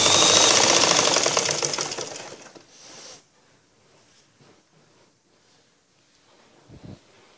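A sewing machine stitches the shoulder seam of a cross-cut blouse in a loud, rapid run of stitches for about three seconds, then stops, leaving only faint handling noises and a soft thump near the end.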